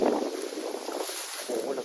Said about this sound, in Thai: ลมเนี่ย คือแรงมากเลยนะครับ